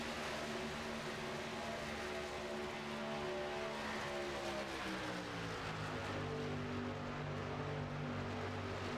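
Racing trucks of the Twisted Chassis Truck Series roar around a track, a steady loud engine drone with shifting harmonic tones as several trucks run close together, pitch bending mid-clip, with no talk.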